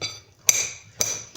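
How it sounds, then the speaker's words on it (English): A knife chops an avocado on a board in two sharp taps about half a second apart, followed by a lighter third tap, close and clear with no talk. "Chopping up my avocado."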